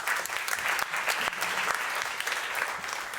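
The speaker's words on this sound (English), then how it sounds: "which I would like you to welcome with a little applause first" An audience applauds to welcome three panelists at a policy discussion event, a steady dense clapping that fills the room from start to finish with no speech over it.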